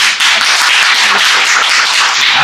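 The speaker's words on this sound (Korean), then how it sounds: "오늘 강연해주신 은사님께 박수로." Audience applause for a guest lecturer at the close of a Korean public lecture on immigration policy, a dense steady wash of clapping from a crowd that fills the whole stretch at full loudness.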